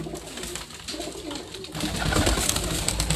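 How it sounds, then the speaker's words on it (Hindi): Magpie pigeons cooing steadily on a rooftop loft in Larkana, Sindh, close and continuous, with rustling, wing noise and other bird sounds around them and no talking. "ये बहुत उड़ते हैं कबूतर।"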